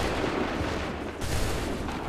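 Musket fire from allied soldiers in Assassin's Creed 3 crackles in a rough burst of overlapping shots with a low rumble, moderately distant and fairly quiet, no voices.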